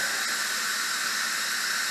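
A constant, even hiss of steam venting from an Instant Pot pressure cooker, loud and unbroken throughout with no other sounds.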